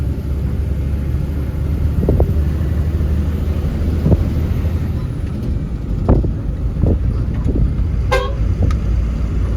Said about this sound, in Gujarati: જો ભાઈ હોર્ન વાગે આપણી ગાડીમાં મિત્રો.